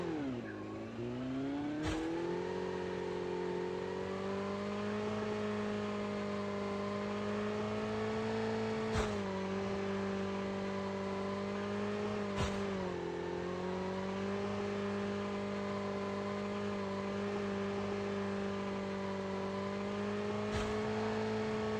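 A motorcycle engine holds a steady, loud rev in Call of Duty Mobile, droning continuously with slight pitch shifts and a few sharp clicks, without speech.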